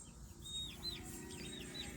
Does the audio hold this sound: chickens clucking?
yes